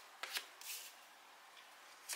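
Lenormand fortune-telling cards are shuffled quietly in a few soft, quick riffles and flicks, close by and faint, with brief pauses between bursts and no talking.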